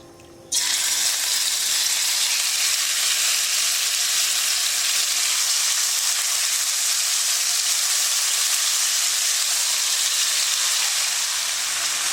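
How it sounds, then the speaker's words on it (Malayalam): Marinated chicken dropped into hot vegetable oil in the pan later used for fried rice, bursting into a loud, steady hiss and sizzle that starts abruptly and continues evenly, close and alone, with no talking. "അതിലേക്ക് ഞാൻ ഈ മാരിനേറ്റ് ചെയ്ത് വച്ചിരിക്കുന്ന ചിക്കൻ ചേർത്ത് കൊടുക്കുകയാണ്."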